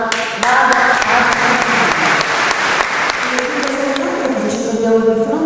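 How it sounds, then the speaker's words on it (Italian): Warm, full applause from the audience at a dialect poetry book presentation, steady and loud, with a voice talking over the clapping. "fatevi un applauso"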